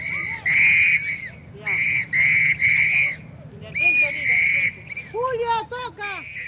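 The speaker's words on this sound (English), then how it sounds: "The volunteers blow whistles to alert thieves they're on guard" Neighborhood patrol volunteers blow whistles in a series of loud, sustained shrill blasts, followed by shorter, rising chirp-like whistle bursts near the end.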